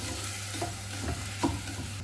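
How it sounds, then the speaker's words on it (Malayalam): Basmati rice with ghee and cumin being stirred in a pan gives a steady, close sizzle broken by a few soft scraping stirs, with no voices. "നന്നായിട്ടൊന്ന് ഇളക്കി കൊടുക്കാം"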